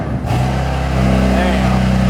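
A BMW M2 engine revs up as the gas pedal is lightly tapped, producing a steady, loud, close engine drone that rises slightly in pitch partway through.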